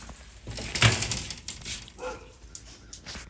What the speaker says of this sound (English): She barks at absolutely nothing.